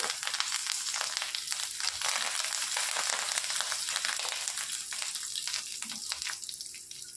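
Fresh curry leaves frying in hot oil with garlic for a dhaba-style egg masala curry make a close, crackly sizzle with scattered pops and spatters. The sound runs continuously and no one speaks over it.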